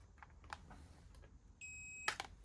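Faint beep from a yellow Numatic vacuum cleaner being power-tested after a motor brush repair, a steady electronic tone starting partway in and ending with a brief clattering click.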